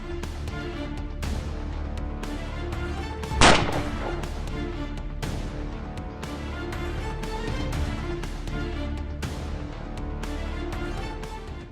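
A single loud, booming rifle shot from hunting firearms rings out once and fades over a steady background.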